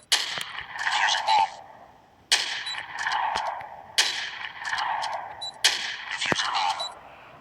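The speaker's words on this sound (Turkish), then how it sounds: "Bir mermi fazladan sıkacağım arkadaşlar." AWM sniper rifle fired in the game Special Forces Group 2, four sharp shots spaced about every one and a half seconds, each followed by a mechanical bolt-cycling clatter, loud and close.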